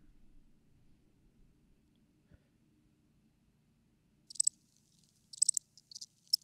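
Cricket chirping sound effect arrives after a near-silent stretch with faint low hum: short high trilling bursts, three or four clusters, crisp and isolated.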